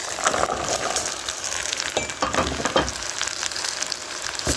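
Beans hit a pot of rice cooking in hot oil, setting off a loud, close sizzle and crackle with some stirring scrapes, and no voices.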